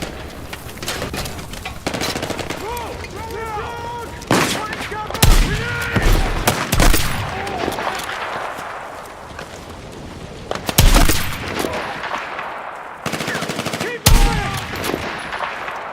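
Gunfire in Battlefield 6 sounds in bursts and single loud shots throughout a busy battle. Soldiers' voices call out under and between the shots.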